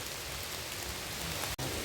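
Steady rain patters down outdoors during a mushroom hunt for sweet bolete-type mushrooms, a dense continuous hiss with a brief dropout near the end and no talking.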